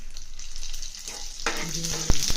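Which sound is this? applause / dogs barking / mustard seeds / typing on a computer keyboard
mustard seeds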